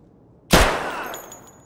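Single close gunshot in the Arena Breakout shooter game, a sharp loud crack followed by a decaying reverberant tail, with faint metallic clinks after.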